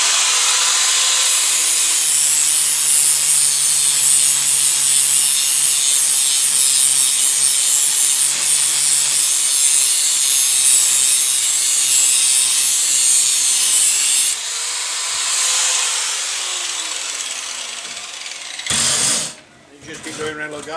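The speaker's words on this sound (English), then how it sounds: "get your grinder and tidy up the edge so you can't feel anything" An angle grinder smooths the edge of a welded metal seam, a steady, loud high-pitched grinding whine held for about fourteen seconds, then dropping and stopping, with brief handling noises at the end.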